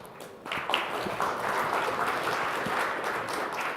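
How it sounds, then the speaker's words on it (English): An audience at a blockchain keynote event applauds the speaker, a continuous wash of many hands clapping, fairly soft and distant, holding steady for several seconds. "Give him a warm round of applause."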